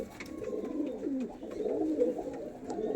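Pigeons cooing at a home pigeon sale: soft, overlapping low coos repeating continuously at close range, with faint background noise.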